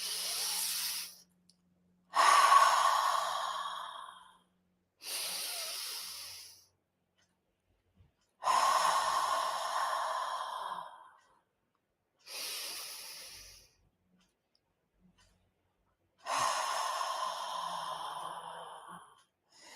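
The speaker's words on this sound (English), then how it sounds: "We've incorporated the breathing and we are breathing." Slow deep breaths in a breathing exercise before smoking a cigarette: six long, close, airy inhales and exhales alternate with silent pauses, with no talk.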